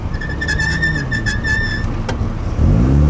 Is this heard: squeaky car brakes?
yes